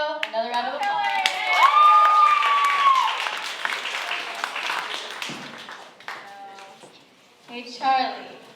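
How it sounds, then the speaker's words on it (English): Audience applause at a Vietnamese cultural night show, a steady wash of clapping that runs through most of the stretch with a sustained sung or spoken tone over it early on, thinning out before a brief swell near the end. "Another round of applause."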